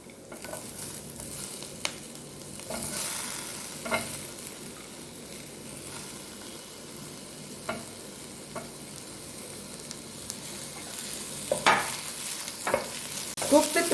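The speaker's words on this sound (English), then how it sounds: "Cook the tomatoes till they're nice and soft." Tomatoes fry over onions in a pan for paneer biryani, producing a constant low sizzle with occasional soft scrapes of a stirring spoon, close and steady throughout, with no one speaking.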